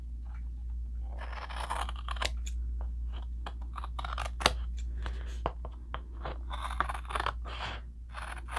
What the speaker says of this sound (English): At this point, I'm just going to use scissors